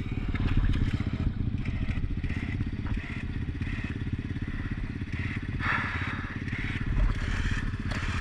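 A steady, loud mechanical drone of a winch pulling a Can-Am quad out of swamp mud, with a continuous low rumble and occasional clatter and scraping throughout.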